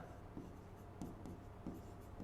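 Marker or chalk writing on a board during a physics lesson, faint repeated scratchy strokes at an uneven rhythm over a low steady hum, close and quiet with no voices.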